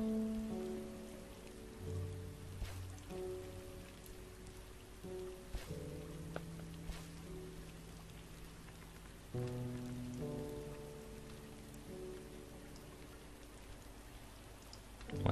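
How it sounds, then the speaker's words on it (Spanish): Rain falls in the video game Starbound, a steady hiss of droplets beneath sustained musical tones and soft game effects, continuous and moderately quiet throughout. "Está lloviendo de vuelta, o sea que es bueno para nuestras..."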